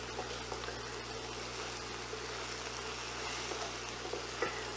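Pearl onions cook in a pan with butter and sugar, giving a quiet, steady sizzle and soft bubbling that stays even throughout, with no talking.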